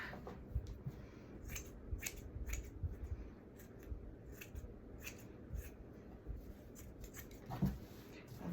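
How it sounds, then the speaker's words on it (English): Scissors cutting up through a cotton T-shirt under the arm, a continuous run of crisp snips and fabric rustle, close and quiet, with no voices. "I'm going to cut up under the arm."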